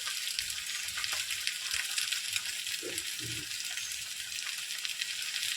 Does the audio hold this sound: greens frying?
yes